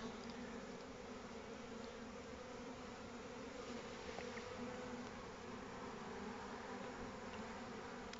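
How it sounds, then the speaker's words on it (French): A steady, dense buzz of many black honeybees flying into their hive fills the air throughout, close and even, with no voices. "vous voyez bien toutes les abeilles qui rentrent"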